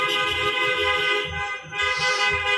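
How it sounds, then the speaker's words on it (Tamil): A loud, sustained car horn blares almost without pause at an Arab wedding in Qatar, briefly dipping midway, with a low rumbling pulse underneath. "இப்போ தான் ஹார்ன் அடிச்சுக்கிட்டே வருவாங்க"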